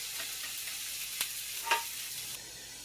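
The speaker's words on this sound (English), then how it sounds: "Giving it another little stir. More of get the onions mixed all up in there." Onions frying in a skillet on a stovetop, a continuous bright sizzle with a couple of short scraping stirs partway through, close and fairly quiet, no voices.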